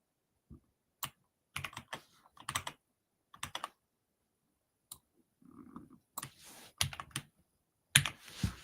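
Bursts of typing on a computer keyboard, quick clusters of sharp key clicks separated by short pauses, close and fairly quiet, with a faint murmur partway through.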